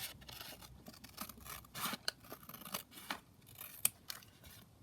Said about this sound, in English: I'm just going to trim around the edge